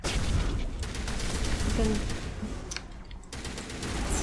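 Pistol fire rattles through a Mass Effect firefight in a dense, continuous spray of shots, with a voice speaking briefly over the noise.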